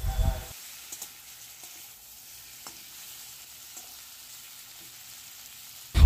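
Capsicum strips fry gently with softened tomatoes in a pan for a fish tenga, a faint low sizzle under a couple of stirring clatters and knocks at the start and end.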